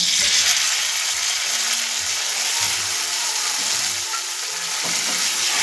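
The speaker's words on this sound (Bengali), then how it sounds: "এরকমভাবে আর এক মিনিটের মতন নাড়াচাড়া দিয়ে রান্নাটা আমি করে দিচ্ছি" A paste of ground poppy seed, mustard and green chili sizzles steadily in a hot pan while being stirred, a continuous bright frying hiss with soft scraping underneath, close and fairly loud with no talking.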